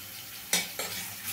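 Ginger garlic paste frying in a pan while being cooked down for a moong dal kurma: a quiet sizzle with two short scraping stirs of a spoon against the pan.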